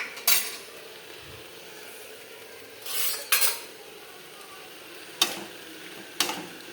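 A spoon stirs tomato, onion and green chilli with salt in a pan, giving a few separate scraping clinks against the metal over a faint low sizzle, close by with pauses between strokes.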